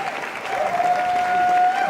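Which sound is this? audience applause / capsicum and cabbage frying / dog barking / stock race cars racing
audience applause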